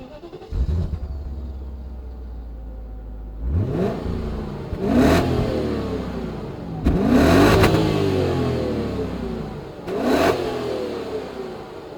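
A 1994 BMW 740iA E38 revs repeatedly from its rear exhaust: a low idle rumble, then four sharp throttle blips rising and falling, loud and close, with no voices.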